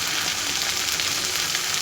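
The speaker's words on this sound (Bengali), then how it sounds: "হালকা একটু ভাজা ভাজা করে নিই রসুন আর আদাটা" Garlic and ginger paste frying in a pan for a spiced rohu fish and potato curry, giving a steady, close, continuous hiss of sizzling oil without pauses or speech.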